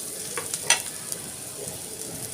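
Green chilli goes into a hot pan of frying food for a Satara-style peanut dish, giving a steady close sizzle with a few light scraping stirs over it.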